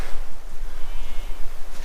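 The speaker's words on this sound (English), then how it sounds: "I hear you, sheep." Mountain sheep bleating on the slopes of Cadair Idris in Wales, a brief call or two carried over steady wind noise outdoors.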